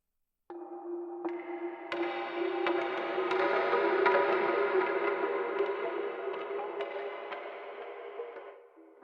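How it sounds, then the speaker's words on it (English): A wash of hollow, clattering bamboo chime tones with an electronic, processed shimmer, building from a few strikes into a sustained cloud before fading out. "we've got these bamboo chimes, and I've done a little processing to this"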